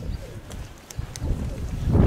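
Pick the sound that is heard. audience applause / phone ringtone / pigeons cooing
pigeons cooing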